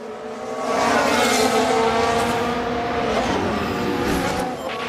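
Fernando Alonso's Formula 1 car in F1 Manager 2022 at the Mexican Grand Prix, a loud sustained high-pitched engine whine holding steady as the car races past, with no talk.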